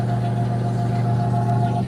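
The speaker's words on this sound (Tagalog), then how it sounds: "Umaandar yung motor" A Sharp automatic washing machine motor hums steadily with a low drone and a faint tonal whine, running evenly while the tub fails to turn, before it drops off at the very end.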